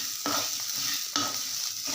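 Chana dal and poppy seeds sizzle quietly in a pan as a spoon stirs them, with two distinct scraping strokes over a steady frying hiss and no voices.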